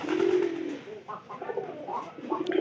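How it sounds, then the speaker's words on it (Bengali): Low, throaty pigeon coos repeat in a soft rhythmic series, close by, with faint rustling in the background. "আজকে দেন কীভাবে ডাকতেছে পায়রাটা"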